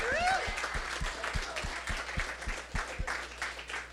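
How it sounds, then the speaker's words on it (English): Audience applause at a creator conference panel introduction, fairly quiet clapping over a steady low rhythmic thump of background music, with a brief whoop near the start. "So give him a round of applause."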